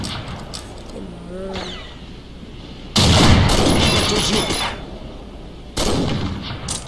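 Gunfire in the video game Combat Arms during an elimination match: sharp loud bursts of shots starting partway through and returning after a pause, with quieter game sounds before them.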